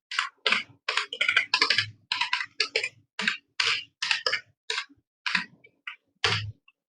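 Typing on a computer keyboard while filling out a medication request form for a glaucoma patient, a steady run of close, crisp key clicks in quick bursts with short pauses, heard alone without talk.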